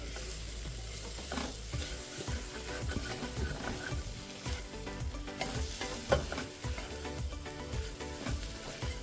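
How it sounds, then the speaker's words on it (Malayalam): Ground spices including garam masala, fennel powder and black pepper sauté for a beef curry, with steady sizzling and repeated scraping stirs of a spoon against the pan, close and fairly loud throughout. "ഇത്രയും ചേർത്ത് നല്ലതുപോലെ വഴത്തി കൊടുക്കാം"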